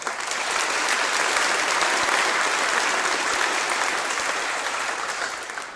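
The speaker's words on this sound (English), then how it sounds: "if we could give them a round of applause as well" Sustained applause from a crowd at a graduation ceremony, steady and full for several seconds before tapering off slightly at the end.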